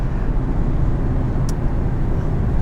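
A 2021 Infiniti Q50 Red Sport 400 pulls hard under acceleration, giving a steady, dense low engine drone with road and wind noise throughout, and no voices.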